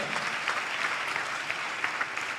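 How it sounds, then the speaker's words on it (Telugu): A church congregation clapping in praise during a sermon, a dense, even burst of many hands applauding together, close and steady. "చప్పట్లు కొడుతూ ప్రభువానికి స్తోత్రాలు చెప్దాం"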